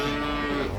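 Simmental cattle at the Bojonegoro cattle market give a loud, close, sustained low moo that fills the whole brief moment with no talking.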